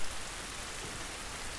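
Rain in The Last of Us: a steady, dense hiss of falling rain, even and continuous, with no voices.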